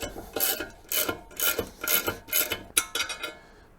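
Two U-bolt nuts come off a Mercruiser steering pin, a close, quiet rhythm of rasping, ratcheting turns in short repeated strokes with brief gaps between them.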